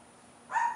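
Dog barking briefly up close after a quiet moment, a single short yelping bark outdoors.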